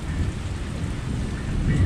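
Steady rain pours down in a thunderstorm outside a shopping mall in Columbus, Georgia, with a low continuous rumble of thunder and wind filling the whole stretch at fairly close range, no voices.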